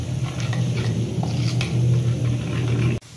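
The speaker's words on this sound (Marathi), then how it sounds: "चांगले मसाले मिक्स करून घ्यायचे," Masala being stirred and mixed in a frying pan for an aloo matar bhaji, giving a steady sizzling, scraping sound that runs continuously for about three seconds before stopping abruptly.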